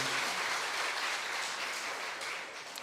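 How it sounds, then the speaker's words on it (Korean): A church congregation applauding during a Sunday afternoon service, a steady wash of clapping that fades slightly near the end; no talking. "또 격려의 박수 한번 주시기 바랍니다."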